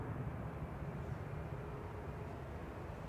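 Passenger airliners, a Vueling and a Ryanair jet, taxi for departure at Manchester Airport with a faint, steady distant engine rumble and hum that holds level throughout, and nobody speaks.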